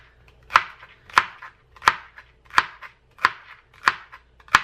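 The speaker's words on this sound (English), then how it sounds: "Once you get done cutting all your celery" Knife chopping celery stalks on a cutting board while making albondigas soup, seven crisp evenly spaced chops, close and clear with no talking.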